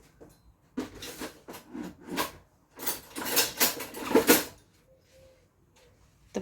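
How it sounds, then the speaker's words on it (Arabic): Flour is stirred by hand into chocolate cake batter in a bowl, producing uneven scraping and rubbing bursts of varying loudness, close by, with short pauses between strokes. "وغادي ندير الدقيق وغادي نبدا نخلط."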